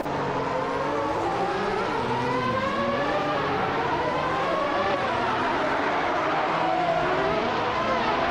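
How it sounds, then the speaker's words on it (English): A 1995 Honda NSX GT2L and other race cars roar steadily in a racing video game, engine tones rising and falling continuously at close range with no talking over them. "Zombush 86 is piloting a 1995 Honda NSX GT2L, and they are currently in 9th place close behind the leader"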